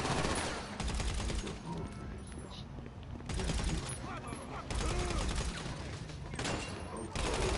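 Gunshots fired in a video game chase: repeated bursts of rapid gunfire alternating with short quieter gaps, over continuous background game noise and engine rumble, with some talk mixed in.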